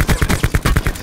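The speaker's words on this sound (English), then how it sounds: "I'm hearing gunshots." Rapid bursts of gunfire crack in quick succession, loud and close, like a volley of shots in Call of Duty: Black Ops 4 Blackout.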